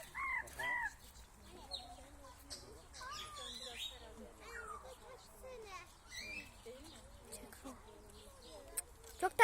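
Birds calling at Izmir Natural Life Park, a mix of chirps, squawks and crowing-like calls, moderately distant and faint, with people talking in the background.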